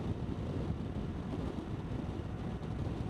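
Steady, loud head-on wind buffeting the microphone while riding a Honda CT125 Trail 125 motorcycle, a continuous low rushing roar with no talking.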